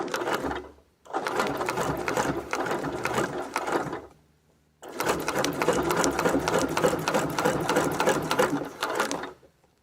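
A sewing machine stitching a wreath design runs in two long bursts of loud, rapid mechanical rattling, pausing briefly in between, close and alone with no talking.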